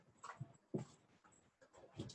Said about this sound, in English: Sorry, noisy dogs.